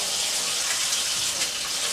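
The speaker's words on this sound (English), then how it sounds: "So I'll just wash my hands." Steady, close rush of running tap water as hands are washed under it in a kitchen, a continuous hiss with no pauses and no voices.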